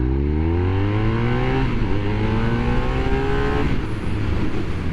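A 2023 BMW R1250R boxer-twin motorcycle accelerates hard, its engine note climbing steadily through the gear before a shift near the end, loud and close, with wind rush underneath.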